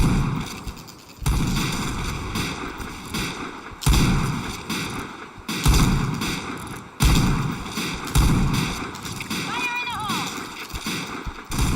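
Flashbang grenade blasts in a video game: a series of sharp, loud bursts roughly every few seconds, each decaying into a ringing tail, with a steady electronic tone and faint voices underneath.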